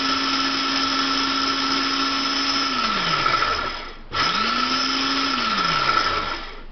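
A blender pulses copycat Fritos-style bean dip on high, its motor whirring steadily and loudly up close, then winding down, cutting out briefly, and spinning up again before slowing off, with no voices.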